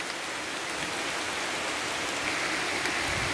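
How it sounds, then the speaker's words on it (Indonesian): Rain falls steadily outdoors at a fishing spot, a dense, even patter and hiss that carries on without a break and with no voices. "walaupun hujan"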